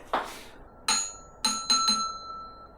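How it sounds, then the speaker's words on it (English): Two small bells are struck in turn, giving a dull first tap and then four clear ringing dings with lingering, similar tones that decay between strikes. "Those 2 bells sound exactly the same."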